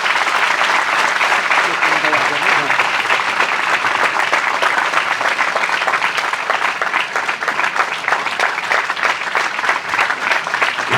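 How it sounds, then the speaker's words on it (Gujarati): A large crowd claps loudly and continuously, a dense, sustained wash of applause that barely varies in strength. "બંને હાથ ઉપર કરી અને તાળીઓથી એમની અત્યાર સુધીની દરેક સેવાને બિરદાવવા"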